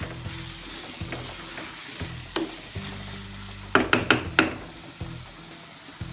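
Prawn roast with curry leaves being stirred in a hot pan: a steady sizzle with a quick burst of four scraping clatters from the utensil midway, over soft background music.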